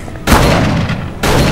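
Shotgun blasts in the horror game Call of Cthulhu: Dark Corners of the Earth, two loud booming shots, the first ringing out in a long heavy decay before the second hits, close and alone without talk.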